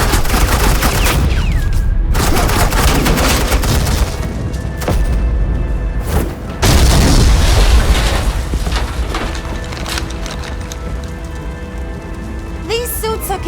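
Suppressing gunfire in the video game Batman: The Enemy Within comes as dense, loud rattling bursts with heavy booms, briefly dropping out midway before the barrage resumes, with game noise and faint tones underneath.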